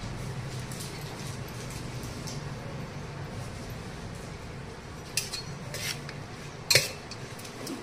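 Spoon scraping and clinking in a bowl as chicken 65 pieces are mixed with spices, a soft continuous stirring rub with a few sharper metallic taps near the end.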